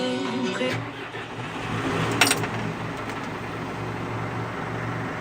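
A Valtra N134 tractor's diesel engine turns over and settles into a steady low rumbling idle, with a brief clank partway through.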